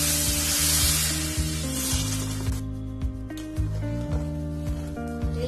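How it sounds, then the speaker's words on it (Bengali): Spice paste frying with a little water for a Bengali katla fish and potato curry, a loud hiss that quickly settles into a soft sizzle with a few light stirring knocks, and a steady hum underneath. "জল দিয়ে মশলাটাকে ভালো করে কষবো"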